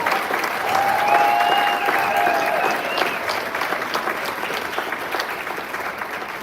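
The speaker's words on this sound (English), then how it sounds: "Let's give a huge round of applause." Business conference attendees give a hearty round of applause, dense steady clapping from a large room that swells early and slowly tapers, with a faint voice or tone over the start.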